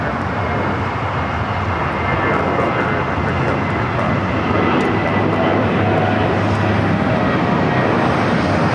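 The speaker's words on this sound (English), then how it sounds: "Next takeoff is a flight heading to Phoenix, Southwest Airlines flight 969, 737-700." A Southwest Airlines Boeing 737-700 takes off from LAX with a loud, steady engine roar that builds slightly and stays broad and continuous throughout, close and unbroken by talk.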